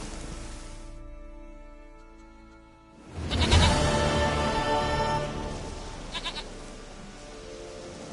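A goat in the video game The Witcher 3 bleats loudly in a long, wavering call after a quieter stretch of ambient game sound, with shorter bleats following.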